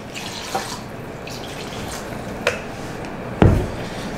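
Warm water pours into a container as a steady, soft stream, broken by a few small splashes and clinks, the last one louder, close by.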